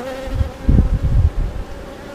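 Honey bees buzz close by during a hive inspection in a steady drone that swells and fades as they move around.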